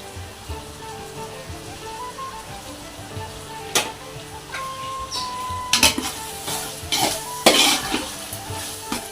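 Curd stirred into tomato masala for mutton biryani sizzles steadily in a pan, with sharp clinks of a spoon scraping the metal and a few louder knocks over the constant frying hiss.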